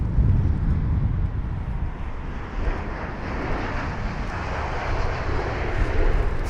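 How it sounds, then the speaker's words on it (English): Lufthansa Airbus A320neo on landing approach at London Heathrow, a steady broadband jet engine roar with wind rumble holding at a fairly constant level throughout, with no talk. "Now we've got the Lufthansa 320neo, just finding it a bit difficult on approach."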